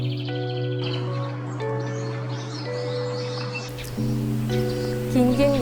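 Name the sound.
birds singing in the morning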